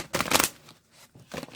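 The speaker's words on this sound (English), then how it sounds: "I'll start to shuffle these" Tarot cards being shuffled by hand: two quick, crisp riffling bursts separated by a short pause, close and clear with no talking.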